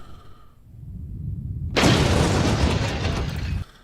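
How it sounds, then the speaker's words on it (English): A bomb explodes in a played interview clip, a sudden loud broadband blast that follows a quiet low rumble and roars on for nearly two seconds before cutting off. "That's just a bomb."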